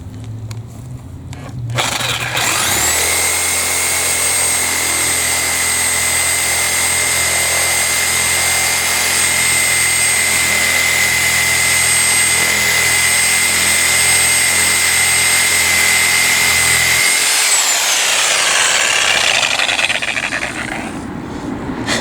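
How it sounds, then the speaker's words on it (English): A power saw fitted with a Diablo pruning blade cuts into a tree stump with a loud, sustained whining buzz for about fifteen seconds, then winds down with a falling pitch. "Yesterday I spent about an hour and a half cutting away at this"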